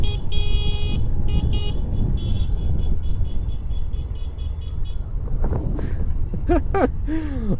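A motorbike horn from a rider behind sounds several short honks on a winding hill road near the Purulia dams, heard from a 125cc bike over steady engine rumble and wind buffeting. The later honks are more drawn out.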